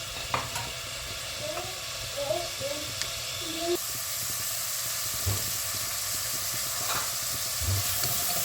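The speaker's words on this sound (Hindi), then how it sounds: "जब ऑयल हमारा गर्म हो जाएगा तो फिर हमने उसमें एक प्याज शामिल करनी है, बारीक कटी हुई" Finely chopped onion sizzles in hot oil for a chana dal fry, with a steady close hiss and some stirring scrapes throughout.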